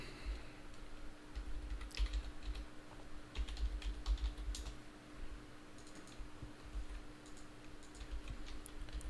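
Code is typed on a computer keyboard in quick, uneven bursts of soft clicks, close and fairly quiet, with a faint steady hum behind and no speech.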